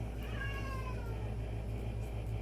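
An upset house cat crying with a drawn-out, wavering meow over a steady low hum, fairly faint and close, with no talking.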